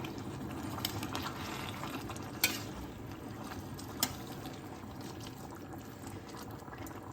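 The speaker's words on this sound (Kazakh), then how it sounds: "Қазір мені құяйын деп жатырмын. Бұл қайнаған су, дайын тұрған су." Boiling water poured into a kazan of Uzbek pilaf, a faint, steady bubbling and rushing wash with a couple of brief knocks against the pot.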